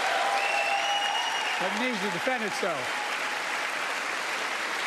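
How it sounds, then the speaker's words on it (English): Sustained applause fills the chamber at the State of the Union address, a dense continuous clatter of many hands running the whole time, while a speaker's voice carries briefly over it. "She already got up to clap twice."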